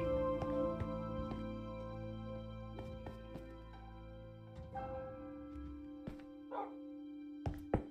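Dogs barking in the Minecraft video game, several short sharp yaps spread across the clip over a steady game music and ambient bed, fairly quiet and with no talking.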